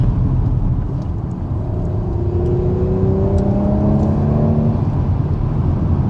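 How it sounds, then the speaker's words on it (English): A Porsche Macan S 3-litre V6 with sports exhaust revs and accelerates with a smooth, rising whir and a deep exhaust rumble, steady and close, with no voices. "The 3-litre V6 is fantastic in how it sounds, especially with the sports exhaust"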